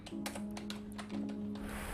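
Keys clatter on a computer keyboard while entries are typed into an Excel custom list, a quick, steady run of close, crisp clicks over a low background hum.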